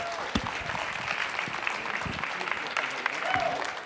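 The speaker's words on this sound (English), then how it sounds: "All right, let's give a big round of applause, all 20 teams." Round of applause from an audience at an education innovation showcase, a burst of clapping with scattered cheers, moderately close.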